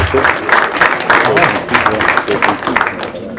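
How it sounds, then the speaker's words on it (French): Audience at an official presentation of amateur football teams applauding a player introduction, with steady clapping over the whole stretch and speech mixed in. "On peut applaudir."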